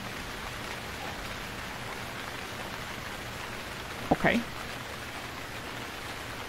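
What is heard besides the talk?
rain falling in Stranded Deep video game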